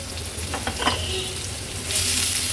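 Finely chopped onion frying in hot oil with crushed ginger-garlic paste, a dense, close sizzle with a few stirring clicks early on, swelling slightly louder toward the end, no voices present.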